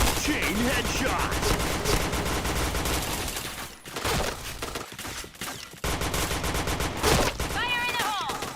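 Rapid gunfire from the first-person shooter Point Blank rattles nearly nonstop in loud dense bursts, with brief pauses and game effects between volleys and a voice talking underneath at times.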